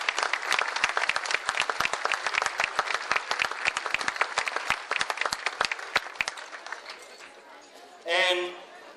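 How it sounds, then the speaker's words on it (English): A gala audience claps in a loose, crisp patter of individual hands that thins out and stops, followed by a brief voice at the end. "So would you give a round of applause to General Boyce?"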